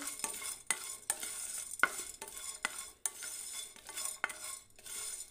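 Whole spices, black pepper and mace, dry-roasting in a pan, with rhythmic scraping stirs every half second or so over a light sizzle, close and without speech.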